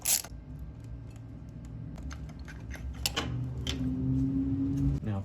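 Ratchet with an extension snugging a new spark plug into a 2007 Suzuki GSXR 600 engine, giving a run of close, quick clicking and metallic ticks over a steady low background rumble, with no talking.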